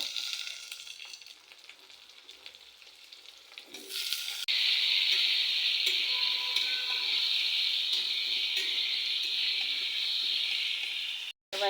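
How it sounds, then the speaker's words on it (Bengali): Chili and onion dropped into hot oil, the frying starting quietly, then bursting into a loud, steady, bright sizzle that holds for several seconds before cutting off abruptly near the end. "আমি এবার গরম তেলে কিছু ঝাল পেঁয়াজ ছেড়ে দিলাম এবার সবজিগুলো দিয়ে দেবো"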